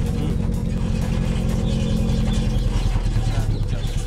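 Loud engine of a very long, modified homemade car with a low-hanging exhaust silencer, a continuous close rumble with clattering scrapes from underneath.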